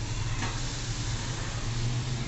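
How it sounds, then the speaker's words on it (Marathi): Boiled water from the kadai lid hits a spicy Khandeshi brinjal curry in a wok with a brief, even, close hiss and sizzle that holds steady throughout. "हे उकडलेलं पाणी कढईवरचं आपण हे भाजीत टाकायचं"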